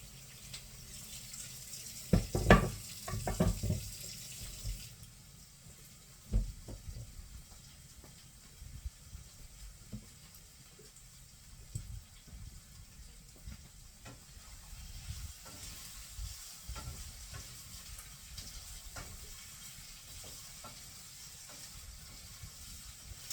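Potatoes and onions fry in a pan while cooking corned beef, a quiet continuous sizzle broken by a few louder crackles and clinks from stirring early on.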